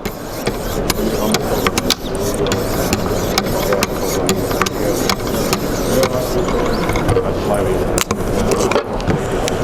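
Grit stones on a Wicked Edge sharpener hone a blade with a dense, continuous scraping rasp broken by small clicks and taps, loud and close, while a person talks over the work.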